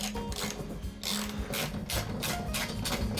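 Bolts on a flat-screen TV wall mount are tightened with a ratchet, a steady close run of rapid mechanical clicking and whirring that comes in several bursts.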